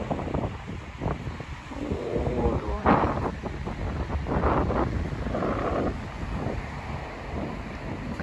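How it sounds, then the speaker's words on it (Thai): Strong wind buffets the microphone at a beach with surf breaking nearby, a loud, continuous roar with gusts, and a voice speaks faintly in the wind. "ลมแรงมากเลยค่ะ"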